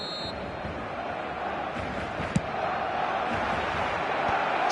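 Steady crowd roar from a football video game, a dense continuous wash of noise with a brief thud partway through, no clear cheering peak.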